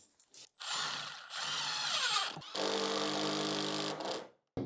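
A power drill drives screws into floor boards during floor finishing in an old coach house, with two long whirring runs close by, a brief gap between them and a short burst at the end.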